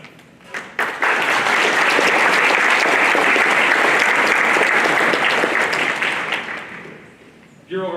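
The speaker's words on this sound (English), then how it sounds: "give a round of applause to the following" Banquet audience at a youth apprenticeship event bursts into sustained, full-room applause that swells quickly, holds steady for several seconds, then tapers off.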